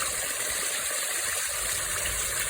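Water pouring and trickling steadily through a plant-filled natural pond filtration system pumping about 2,400 gallons per hour, a soft constant gush at close range with no voices.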